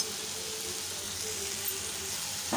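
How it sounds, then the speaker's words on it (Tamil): Mint leaves sauté with tomatoes in a hot pan for a Mangalore-style tiffin dish, giving a steady, even sizzle and frying hiss throughout with no talk. "புதினாவை போட்டு வதக்கியாச்சு"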